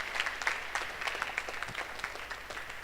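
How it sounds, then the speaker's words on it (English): Audience at an innovation and entrepreneurship bootcamp applauding a participant: a steady patter of many hands clapping, fairly quiet and distant, lasting the whole moment. "Could you please all give him a round of applause?"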